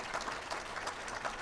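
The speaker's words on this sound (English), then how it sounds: "Let's give a round of applause for our panel today." Audience applause for a panel on crisis leadership, a brief, soft, even patter of clapping from a room of people.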